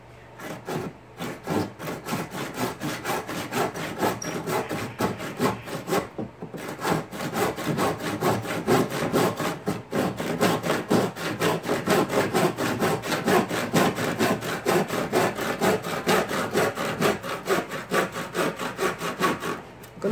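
A Japanese back saw cuts through wood in steady back-and-forth strokes, the rasping close and continuous with a few brief pauses.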